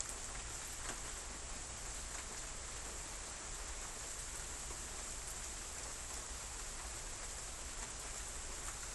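Rain falls steadily outdoors as a soft, continuous broadband hiss with scattered faint drop ticks, moderately quiet and even throughout with no voices.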